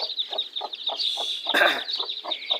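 A caught hen with chicks clucks in a rapid, regular series of short, close pulses, broken midway by a louder squawking flurry before the even clucking resumes.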